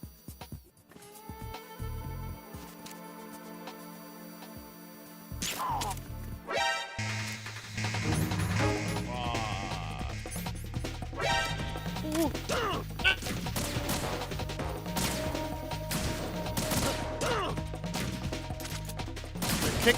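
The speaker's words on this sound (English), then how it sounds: "They're kicking the shit out of me." Guards kick and beat the player in Metal Gear Solid 2, a rapid flurry of thuds and smacks over busy game music and effects, getting louder after the quiet opening.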